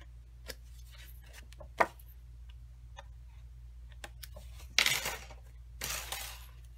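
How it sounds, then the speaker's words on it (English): Scissors snip and trim paper while a graduation card is being made, giving scattered sharp clicks and two brief bursts of cutting against a quiet background hum, with no talking. "Get that off of my scissors."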